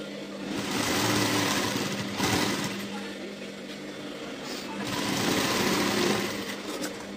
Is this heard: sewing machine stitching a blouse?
yes